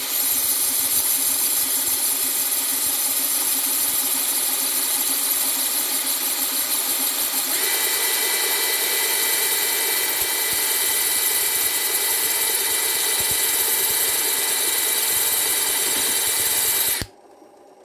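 A powered sharpener grinds Rolly Munro tungsten carbide cutters in a steady loud whine whose tone lifts partway through as the cutting edge is brought in, then cuts off abruptly at the end.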